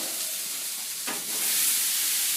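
Chicken sizzles steadily in a pan, a bright, close, continuous hiss of frying that swells slightly louder partway through, with a brief scrape of stirring.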